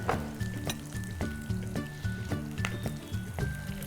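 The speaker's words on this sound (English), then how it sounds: "So next I'm going to add the jeera and allow it to sputter." Cumin seeds sputtering in hot oil, a busy crackle of quick pops that repeats in bursts, with music-like tonal notes running underneath throughout.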